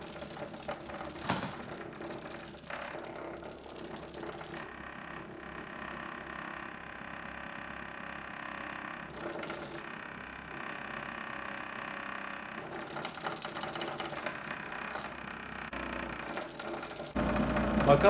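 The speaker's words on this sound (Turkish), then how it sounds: "Kapasitörlerden ise motorumuz çalışmaya başladı." A small electric motor powered by capacitor-stored electricity runs with a steady whirring, rattling mechanical hum, fairly close and continuous, ending in a louder burst.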